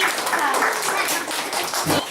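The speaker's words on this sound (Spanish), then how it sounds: "muy bien, un aplauso." Young children in a third-grade classroom clap together during a Santa Claus visit, a steady, dense patter of small hands filling the room with chatter and voices mixed in.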